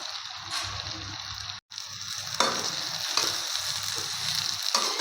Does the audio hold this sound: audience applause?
no